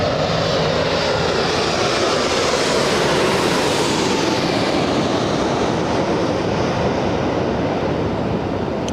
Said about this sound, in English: We have a Dreamliner directly in front of us, flying in from Chicago's O'Hare International.